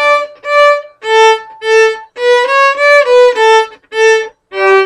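Violin section in an Allegro study, played as separate bow strokes with a clear stop between each note, giving a detached, evenly spaced sequence of about a dozen short tones without accompaniment.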